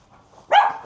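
A single sharp, loud dog bark rings out close by after a near-silent moment, briefly dominating the space.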